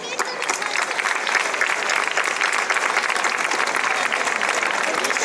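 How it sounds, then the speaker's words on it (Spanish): Steady, dense applause fills a conference hall in Tembleque as the audience claps continuously and loudly from start to finish, a full room sustaining the ovation without any voices breaking through. "Así que este aplauso, muchas gracias, es para vosotros."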